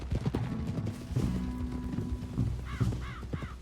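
A horse's hooves clip-clop at a walking pace in the Western game Red Dead Redemption 2, with crows cawing in short bursts near the end and a low ambient bed underneath, no talking.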